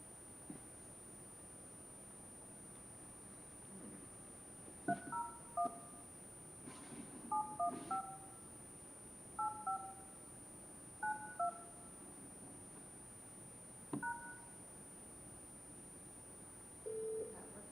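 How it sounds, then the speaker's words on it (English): Telephone keypad dialing tones from a phone dialing into a Zoom meeting audio line, a series of short beeps in quick clusters, some paired, spread across several seconds over a faint steady hiss, with no talking. "So I'll just dial in the audio that way."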